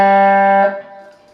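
A guitar plays a short lick from the second chorus of a song, a bright sustained chord that rings clearly for about half a second, then quickly decays to a faint tail with no talking.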